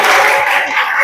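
A brief, dense burst of clapping from a classroom audience, steady and fairly loud for about a second.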